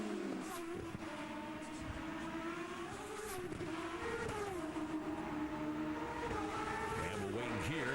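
Forsythe Racing IndyCar at speed on track, a loud sustained high-pitched engine whine with pitch rising and dipping through gear changes, steady and dense throughout with crowd and track ambience beneath.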